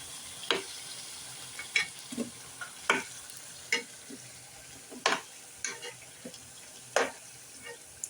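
Bottle gourd koftas being lifted out of hot frying oil, heard as a string of sharp scraping and clinking spoon strikes about once a second over a faint steady sizzle.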